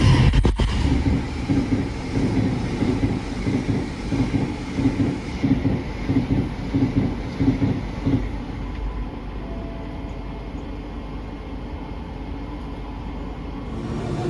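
KA Progo economy-class train running on rails at night, a steady low rumble with rhythmic clatter in the first half, easing into a smoother continuous roar with no talk.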